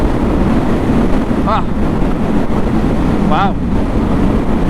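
Heavy, steady wind roar buffeting the microphone while riding a Harley-Davidson Sportster S at full speed on a highway, a constant loud rush with a short voiced exclamation heard through it.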